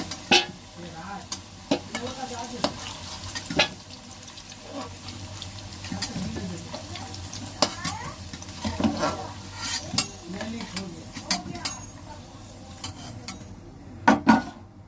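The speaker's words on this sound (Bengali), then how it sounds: "মাংসের আলু ভাজতে বসিয়ে দিয়েছি, লাল লাল করে ভেজে নেব" Potato pieces for a meat curry fry in hot oil in a wok, a steady close sizzle broken by frequent scraping clinks and knocks of a spatula as they are stirred, with no talking.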